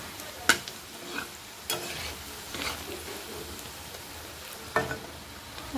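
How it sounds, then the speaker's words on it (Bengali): Chicken pakora frying in oil over a low flame gives a soft, steady sizzle, broken by a few sharp stirring scrapes and clinks in a home kitchen, with no talk. "এটা লো ফ্লেমে ভাজা নিও, তাহলে সিদ্ধ হইব, সুন্দর ভাজা হইব"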